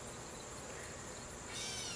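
Honeybees crowded in a cup for a sugar shake mite test give a faint, steady buzz that holds throughout and swells slightly near the end.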